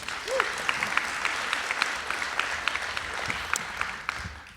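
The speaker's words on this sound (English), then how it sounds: "So give yourselves a round of applause on that one." Steady applause from a seated conference audience fills the room, dense and even throughout, with a brief voice tone near the start and a few sharper claps standing out.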